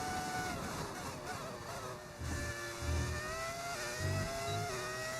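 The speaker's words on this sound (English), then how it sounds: "I can have that engine sound. I use a mod, mate." A high-pitched, modded BMW Formula 1 car engine in the video game F1 25 revs and shifts continuously, rising and falling in pitch, loud and steady throughout with no voices.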